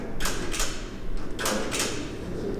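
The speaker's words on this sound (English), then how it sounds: "Things are clicking now. You can hear the relay" A few sharp mechanical relay clicks in pairs from a turbo kart during its first crank, close by, over a steady low fuel pump hum and rumble.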